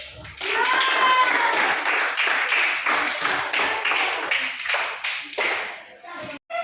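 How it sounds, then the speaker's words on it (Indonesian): A classroom of students claps for a group of classmates, loud, close and quick clapping for several seconds with a few voices mixed in before it breaks off. "Tepuk tangan buat kelompok ini."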